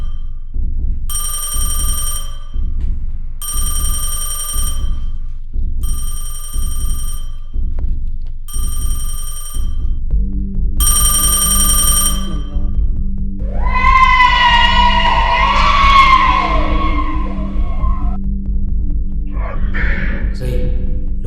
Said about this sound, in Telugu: అసలు కరెంటే లేని హాల్లో టెలిఫోన్ రింగ్ అవ్వడం ఏంట్రా?